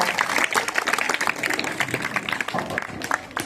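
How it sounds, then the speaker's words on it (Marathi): A crowd claps for the winning team at a school quiz competition, busy uneven applause with many distinct hand claps, fairly close, with some voices mixed in. "सर्वांसाठी जोरदार टाळ्या"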